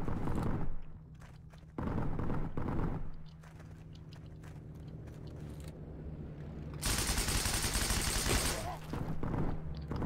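Bursts of weapon fire in the shooter game Heroes & Generals: loud, sharp volleys of rapid shots in separate bursts, with a player talking between them over a low steady hum.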